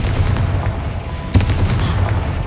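A fire spell in Hogwarts Legacy bursts with a low booming blast, one sharp crack near the middle over a constant rumbling game background, with no one talking.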